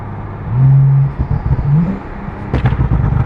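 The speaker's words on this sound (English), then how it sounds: "It does big pops like that." An 850 HP Porsche 911 Turbo S with blow-off valves and a valved sport exhaust revs and rises in pitch, then a sharp burst of crackling exhaust pops rings out close by over the rumbling idle.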